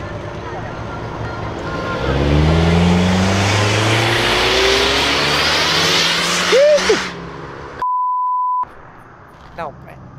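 A turbocharged car engine revs loudly as cars leave a car meet, its droning harmonics climbing and falling before cutting off, followed by a short steady electronic beep and a brief chirp.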